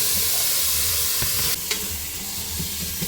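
Tomatoes fry in a pan for biryani with a steady, close sizzle, broken by a few sharp stirring scrapes; no one talks.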